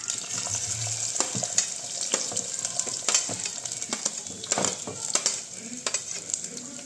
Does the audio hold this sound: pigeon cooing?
no